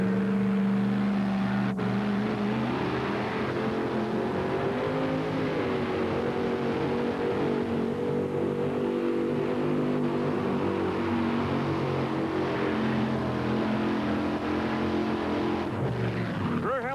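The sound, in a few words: alcohol-fuelled two-wheel-drive pulling truck engine at NTPA Rock Springs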